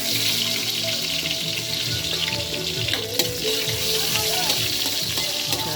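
Garlic and onion sautéing in a pan, a steady, dense sizzle up close with light stirring, continuous for a few seconds.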